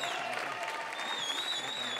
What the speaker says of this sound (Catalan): Un fort aplaudiment a aquests grocs